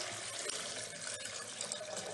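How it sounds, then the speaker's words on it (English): Running tap water splashes steadily over a kitchen strainer being rinsed, a continuous hiss of flowing water with no talk. "Got the strainer there. Strainer rinse out."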